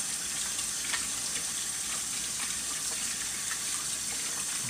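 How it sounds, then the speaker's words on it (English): Tap water runs steadily while hands are washed at a kitchen sink during breakfast prep, a continuous close splashing hiss with no voices. "wash our hands right quick."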